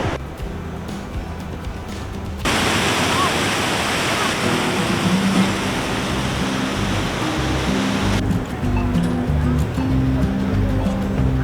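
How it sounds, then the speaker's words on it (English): River water pours over a dam slide like a small waterfall in New Braunfels, Texas: a dense, steady rushing roar that swells in after a quieter stretch, holds for several seconds, then drops back to a lower background wash. "So you have this like almost like a waterfall effect."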